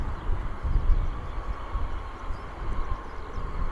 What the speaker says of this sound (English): Here comes our helicopter by the sounds of it.